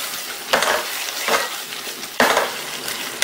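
Cornstarch slurry is stirred into bubbling Lazi chicken sauce in a wok, giving a soft, constant sizzle broken by three louder scraping, splashing strokes of the spoon, close up.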